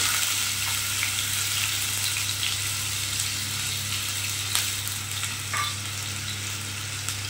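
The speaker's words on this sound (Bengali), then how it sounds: "একটু ভাজা ভাজা করবো আদাটা" Chopped ginger frying in hot oil on a gas stove, a steady close sizzle running throughout with a constant low hum beneath and a few faint stirring clicks.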